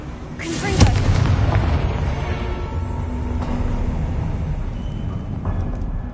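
A Confringo blast curse in Hogwarts Legacy erupts in a sudden booming explosion with a sharp crack, then a rumbling, roaring tail that lingers under game noise.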